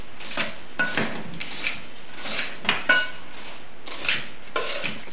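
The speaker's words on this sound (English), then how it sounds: "So we stir our dry ingredients together." Dry cookie ingredients with cardamom, coriander and salt being stirred in a bowl, giving a series of close scraping, clinking strokes at an irregular rhythm, with no talking.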